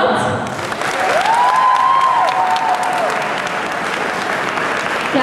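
An audience claps at an award ceremony during a Hungarian fan convention's results announcement, a dense, steady round of applause lasting several seconds, with a voice briefly heard over it.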